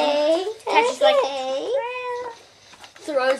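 A cat meows repeatedly in the video game Far Cry 4, several drawn-out, wavering mews near and clear, with a short pause before the last one.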